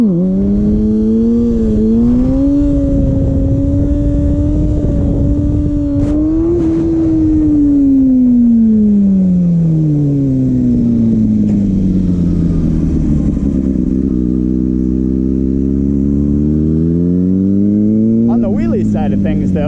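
A Kawasaki ZX6R sport bike during stoppie practice: a loud, close engine whose pitch holds, climbs, then sinks slowly and rises again, with wind rush throughout and a brief clatter at the end.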